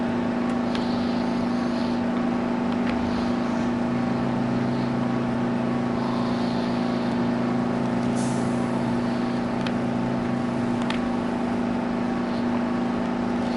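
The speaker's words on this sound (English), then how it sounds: "They outlawed this motor in rigs for a reason, because they had them in buses, everything." The very loud engine of an old recovery truck drones steadily from inside the cab on a snowy recovery trip, a constant low, heavy hum with faint rattles and no talk over it.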